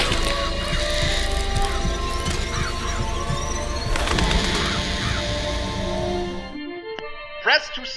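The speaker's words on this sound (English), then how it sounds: "Press to summon murderous crows." Murderous crows summoned by a Vigor in the video game Bioshock Infinite, a dense rush of cawing, flapping and crashing game effects that cuts off abruptly, leaving brief quiet and a few sharp clicks.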